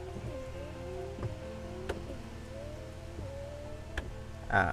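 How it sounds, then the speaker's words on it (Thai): Windshield wipers on a small electric classic car, gold with black trim, run with a steady motor whine and soft, regular thumps at the end of each sweep, close and fairly quiet. "เวลาเรากด ไม้ปัดน้ำฝนเขาก็จะทำงานนะครับ"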